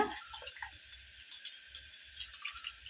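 Water poured into a pot of potato and tomato sambar while it is being mixed, a steady faint trickling and splashing alone with no voices.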